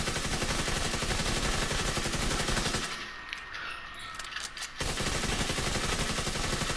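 Rapid automatic gunfire from The Division 2 video game, a raid fight with a healer build, rattling in dense continuous bursts that drop out briefly midway before resuming loud and steady.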